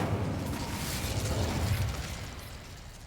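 Incendio fire spell in Hogwarts Legacy blasts with a loud, roaring whoosh of flame and a deep rumble that holds steady for about three seconds and then eases slightly.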